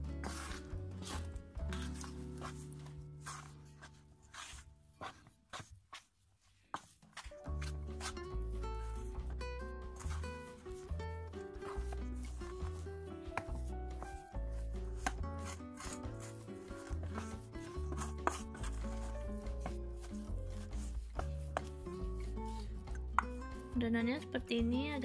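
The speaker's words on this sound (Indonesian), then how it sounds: "Kita aduk rata." Potato pempek dough with tapioca is stirred and mixed in a bowl, giving repeated soft rubbing and scraping strokes with occasional clinks, while a person talks over much of it.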